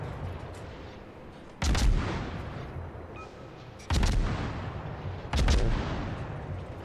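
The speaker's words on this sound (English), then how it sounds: "HE spamming with smaller rounds." Naval high-explosive gunfire from the destroyer Farragut in World of Warships: three heavy, booming salvos land a couple of seconds apart, each a loud sharp crack with deep rumble, over a steady low ambient drone.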